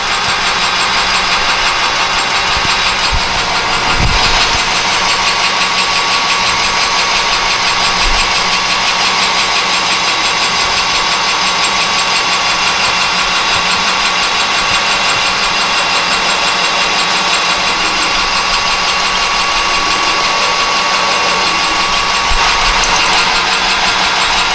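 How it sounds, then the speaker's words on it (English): A metal lathe drills a center hole in a piece of 1-inch stock, giving a steady, loud, continuous motor and machining hum with faint metallic whine and a few light knocks. "Right now I'm just facing it off, and I'm going to drill a center in it here"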